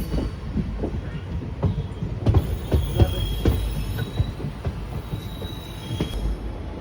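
Mysuru to Renigunta SF Express train rolling into Jolarpettai junction, with loud rhythmic clickety-clack of wheels over rail joints, thumps and a faint high squeal throughout, heard close from on board.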